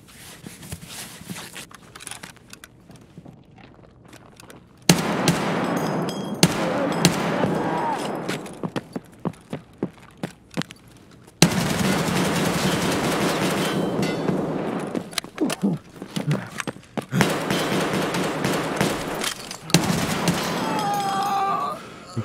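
Gunfire in an Escape from Tarkov fight, with quiet stretches broken by long loud runs of rapid automatic shots and sharp single cracks over about twenty seconds, with talk in between.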